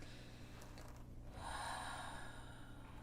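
One deep breath, faint and close over a low hum: a slow inhale that swells to a soft, airy rush and then tapers off.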